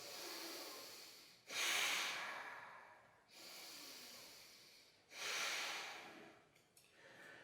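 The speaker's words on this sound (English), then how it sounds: "So deep inhales and exhales." Deep yoga breathing held in a backbend pose, slow and close: two long rushing inhales each followed by a long exhale, airy and hissing, with a short faint breath at the end.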